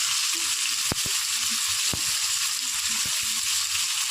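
Shrimp coated with ginger paste and chili powder sizzle steadily in a pan while a spoon stirs, giving a few sharp clicks against the pan over the constant hiss.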